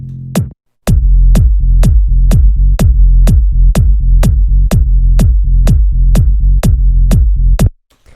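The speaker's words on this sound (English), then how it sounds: "the first thing up here is probably going to be the low end groove" A tech house low-end groove at 125 BPM: a punchy kick and deep bass pulse in a steady four-on-the-floor pattern, loud and dry, stopping abruptly near the end.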